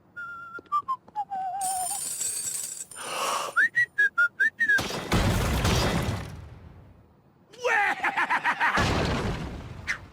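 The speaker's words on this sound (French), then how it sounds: "Ça alors, tu siffles et ça fait tout ça?" Short whistled notes rise and fall, followed by sliding whistles, bursts of noisy crashing and whooshing sound effects in between, loud and close.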